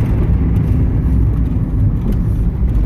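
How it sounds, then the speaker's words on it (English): A Mazda Miata's engine drones loud and close in a steady low rumble, holding a constant pitch with slight flutter and no talk. "The car does make an interesting sound, engine sounds."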